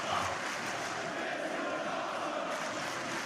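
A large crowd at the AEW Double or Nothing wrestling event roars and cheers in a constant, faint, distant wall of noise with no clear breaks.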